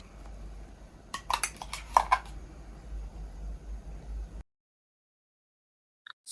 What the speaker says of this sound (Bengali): এখন এভাবে নাড়িয়ে চাড়িয়ে ঘন করে নিব